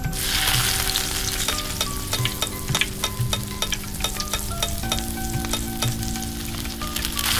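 Chicken wings stirred through bubbling bhuna curry sauce sizzle steadily up close, a dense frying crackle with occasional utensil scrapes and a faint tonal hum beneath, no voices.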